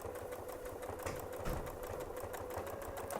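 A sewing machine quilting along a ruler hums with a steady, fast mechanical pulse, moderately close and continuous throughout, with no voices over it.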